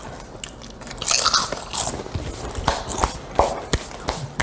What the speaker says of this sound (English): I'm all about the crunch, and it has a perfect crunch.